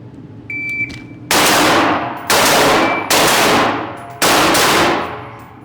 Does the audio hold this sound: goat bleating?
no